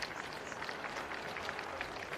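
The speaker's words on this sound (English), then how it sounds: "round of applause from both sets of fans" Crowd applause from both sets of fans at a North Hobart v Lauderdale football match: faint, distant, continuous clapping from the stands, steady and diffuse.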